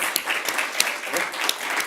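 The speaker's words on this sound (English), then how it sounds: "Did they clap after every question, or was that just a good answer?" A studio audience applauds steadily, a dense wash of many hands clapping with no talk over it.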